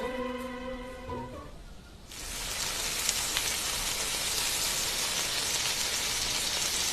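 Food sautéing in a hot pan gives a steady, close sizzle that rises suddenly and then holds at an even hiss, with a brief tonal hum heard before it.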